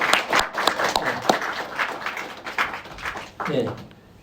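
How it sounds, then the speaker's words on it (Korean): A church congregation at a Sunday worship service applauds a visiting pastor, a steady patter of many hands clapping close by for about four seconds before fading out, with a voice briefly rising over it. "박수하겠습니다"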